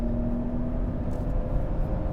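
A Mercedes-Benz GLE 450 4Matic at speed on a high-speed test track: a steady, loud interior drone of engine and road noise with a constant low tone, heard without talk.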